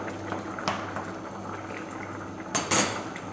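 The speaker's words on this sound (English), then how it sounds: "we're going to add our shrimp" Shrimp tipped into a pan of simmering saffron risotto, a low bubbling sizzle with soft metallic scrapes, then a brief louder clatter and splash as they land, close up.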